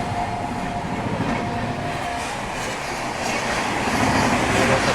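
Trains passing each other at a railway crossing on the Kanpur to Delhi section in North India, heard as a steady, loud rumble of rolling wagons with faint clickety-clack, continuous throughout.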